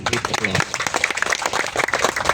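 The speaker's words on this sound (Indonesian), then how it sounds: "Tepuk tangan dulu." Audience clapping at a corporate corn-planting program event in Berau, a dense burst of applause filling the short moment, loud and close, with crowd voices mixed in.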